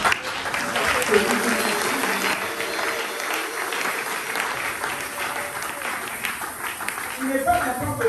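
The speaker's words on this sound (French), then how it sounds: "Et applaudis-le" A church congregation claps and applauds continuously during a worship service, a dense steady wash of hand claps with voices faintly mixed in throughout.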